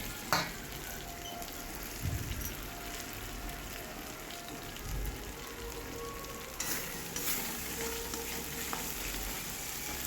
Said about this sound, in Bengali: ভালো করে মশলাটা কষিয়ে নেবো যতক্ষণ না পর্যন্ত তেল ছাড়ছে ভালো করে কষাতে হবে